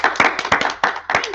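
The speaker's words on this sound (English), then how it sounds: "Let's give them another big round of applause." A live audience claps in quick, uneven bursts at a Juneteenth show held at the Crowne Plaza Hotel in Annapolis, with sharp hand slaps close together and a voice faintly underneath.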